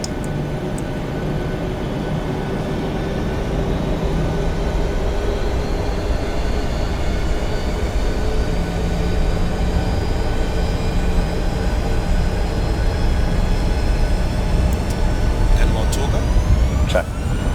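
Airliner jet engines spooling to takeoff thrust in Prepar3D during a Southwest departure from Phoenix, a steady broad roar holding level throughout with a low hum beneath and faint voices over it.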